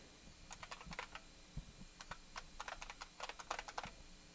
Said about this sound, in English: I have a feeling that I typed something wrong in here